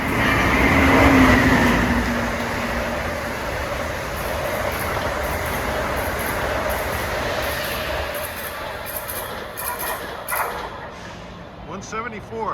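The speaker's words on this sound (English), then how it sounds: "here comes a train arriving from Trenton at 132" An NJ Transit train arrives from Trenton, its rail rumble loud and steady throughout with a squeal near the start and rattling clanks toward the end.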